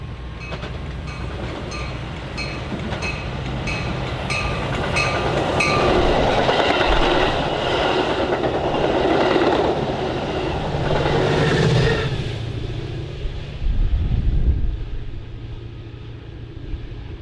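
A Metra commuter train passes on the BNSF line in the Chicago suburbs, a loud steady rumble with rail clatter and rolling wheel noise building and holding for the whole stretch, with a heavier thump near the end.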